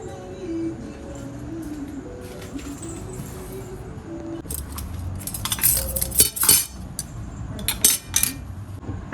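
Metal forks and spoons clink against each other and against plates at a home dinner table, a cluster of bright, sharp chinks in the second half over a low room murmur, with birds cooing faintly outside.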